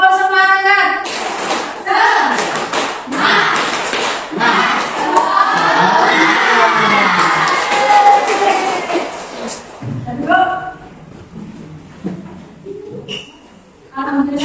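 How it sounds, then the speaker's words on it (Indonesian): Students at SMK Nusantara do the tepuk semangat clapping chant in a classroom, a loud group of rhythmic claps and shouted chant bursts, with a teacher's voice before and after. "Tepuk semangat."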